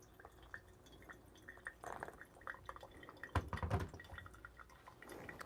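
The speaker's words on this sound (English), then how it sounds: "And then with the center pour, I'm gonna be very aggressive" Hot water poured aggressively into the center of coffee grounds in a pour-over brewer, brewing Cup of Excellence Honduras 2022 coffee: quiet trickling and dripping with a few louder splashy bursts.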